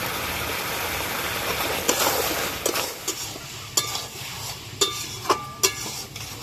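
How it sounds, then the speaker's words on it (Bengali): Spices frying in hot oil with slit green chilies, ginger-cumin paste and turmeric, a steady sizzle with a few sharp clinks of a spoon against the pan. "সবকিছু ভালো করে ভেজে নিয়েছি"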